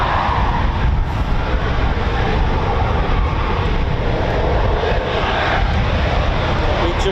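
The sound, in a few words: Eurofighter Typhoon FGR4 jet engines at RAF Coningsby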